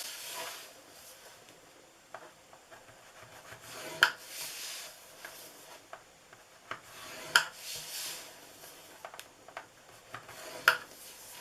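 Score lines are drawn over again on a paper Christmas candy box, with quiet scraping strokes and a few sharper ticks spaced across an otherwise hushed room.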